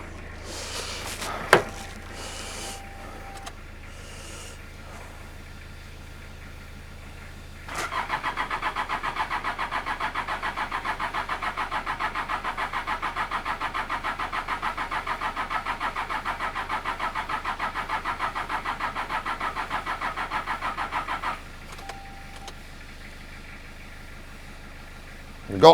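An old JDM Toyota Hilux 4x4 that sat parked for 14 years is jump-started from another Toyota, its starter cranking loudly and steadily for about fourteen seconds after a few short clicks, without the engine catching.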